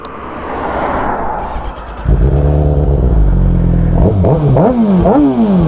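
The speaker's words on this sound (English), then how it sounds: "I've got an aftermarket exhaust on it, so it's a Leovinci SBK GP style exhaust" A motorcycle fitted with an aftermarket Leovinci SBK GP style exhaust idles with a deep, throaty rumble, then revs up and down repeatedly in sharp, rising and falling bursts, loud and close.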